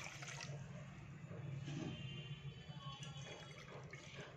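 Water pours steadily into a pan for cooking sweet zarda rice, a soft continuous splashing trickle lasting a few seconds, close and fairly quiet.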